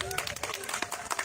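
An audience in Senayan applauds Puan Maharani and AHY, a brief, quiet patter of many hands clapping with murmuring voices mixed in.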